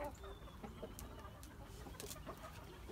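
Backyard chickens cluck softly while a rooster calls his chicks over, with a guinea hen nearby, low steady farmyard murmuring and a few sharper clucks close by.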